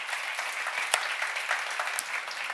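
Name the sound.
congregation applauding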